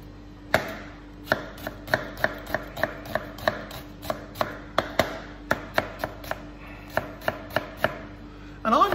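An onion is diced with a knife on a cutting board: about twenty crisp, evenly spaced chops land close and clear over a quiet room, with no voices.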